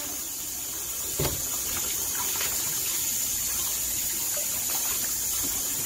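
Tap water running steadily for washing chicken, a constant bright hiss of flowing water with faint clatter underneath.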